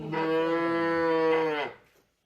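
A single long, loud moo from one of the large Simmental cattle on a farm, holding steady for about a second and a half before dropping away to quiet.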